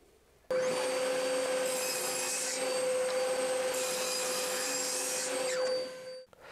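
Wooden blocks, cut to 90 by 60 mm for a coaster, sawn with a power saw: one continuous steady whining cut lasting about six seconds, close and loud, ending abruptly, with no talking.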